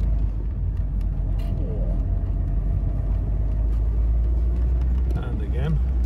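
Vintage Bentley with a 4.25 litre engine and twin SU carburettors labouring up a hill in second gear, a steady loud engine rumble throughout with speech over it.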